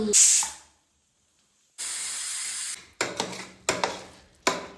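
A pressure cooker cooking biryani lets off loud hissing blasts of steam, first a long continuous hiss, then several short rhythmic whistle bursts, close and with no talk.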